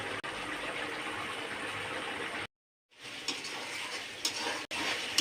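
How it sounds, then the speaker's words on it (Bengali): Sour yogurt masala fries and is stirred in a pan for an egg curry, giving a steady close sizzle with scraping, briefly broken by a half-second gap of silence. "এখন টক দইও কিছু টাইম কষিয়ে নেব আমি"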